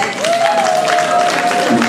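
An audience at the Nuit de l'Excellence africaine gala in Reims claps in a loud, dense, even wash of applause, with a sustained whistle-like tone running through it.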